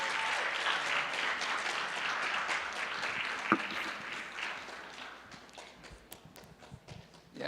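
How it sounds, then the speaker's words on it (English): An audience at a church relationship panel claps as the panelists walk up to the stage, a dense, steady wash of applause that gradually thins out toward the end, with a few scattered claps left over. "Can we give them a round of applause as they come?"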